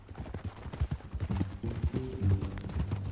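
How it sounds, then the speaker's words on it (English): Horse hooves clip-clop steadily on the ground in Red Dead Redemption 2, a close, continuous rhythmic trot lasting about three seconds, with faint low musical tones underneath. "That new horse?"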